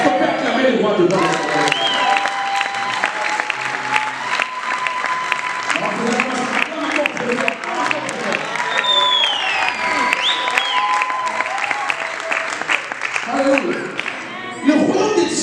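A church congregation bursts into sustained applause and cheering, dense clapping filling the room for about fifteen seconds with voices calling out over it, steady and loud throughout.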